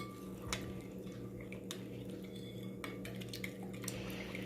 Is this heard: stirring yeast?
yes